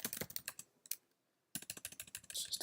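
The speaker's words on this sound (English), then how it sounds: "It makes my keys sound really loud." Computer keyboard keys clatter in rapid, loud bursts of typing picked up close to the microphone, with a brief pause before the fast tapping resumes.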